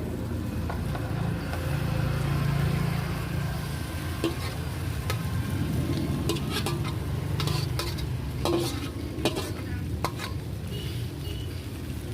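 Potato and pea samosa filling stir-fried in hot oil in a pan, a steady close sizzle with scraping spoon strokes and occasional clinks of utensil against the pan, no talking.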